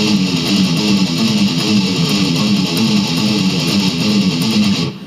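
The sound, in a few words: guitar playing the breakdown riff of a song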